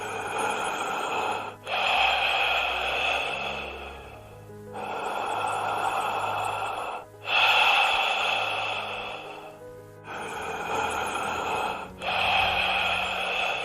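Slow meditation breathing: several long, deep, close breaths through the nose, each followed by a quieter pause, repeating in a calm, even rhythm without any talking.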